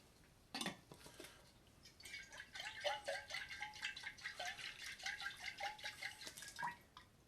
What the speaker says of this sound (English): I'm just going to rinse these ones off and this jar.